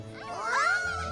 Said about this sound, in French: Il se pourrait en effet que ce soit bien un tigre, mais c'est encore un bébé comme vous.